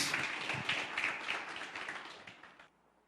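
A church congregation gives a round of applause, dense clapping that holds steady and then fades out quickly before cutting to near silence.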